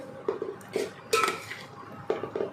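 A spoon stirring rice and meat in a cooking pot, several close metallic scrapes and clinks in quick irregular succession, clear and without talk.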